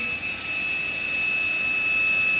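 A lathe spindle runs steadily at about 2,000 RPM while a pen holder is faced to length. It makes a constant, moderately loud whine with bright high tones over a broad hiss, and no voice is heard.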